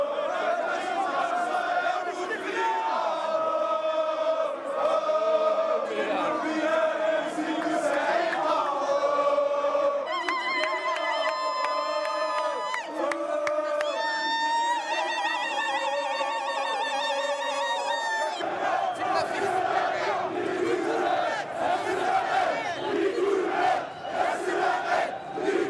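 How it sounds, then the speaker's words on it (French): Algerian street protest crowd singing protest songs in chorus, a dense mass of voices chanting continuously and loudly throughout, with whistles and ululation-like high tones rising in the middle section. "Tout au long de la manifestation, la foule entonnera en chœur des chants contestataires."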